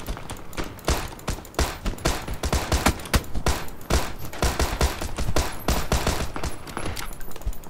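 Rapid, loud gunshots in the battle royale game PUBG, a dense irregular string of sharp cracks and bursts close by, with no talk over them.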